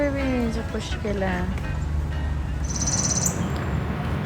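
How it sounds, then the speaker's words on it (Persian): Birds sing outdoors in Cuyahoga Valley National Park, Ohio, with a few clear whistled chirps early on and a brief high trill later, all set against a loud steady rumble of road or wind noise. "صدای پرنده ها رو گوش کنین"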